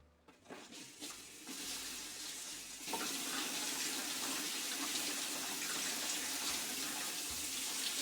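Water runs from a kitchen tap to rinse food, starting with a few clatters and splashes, then settling into a strong, steady rush of flowing water with no talking.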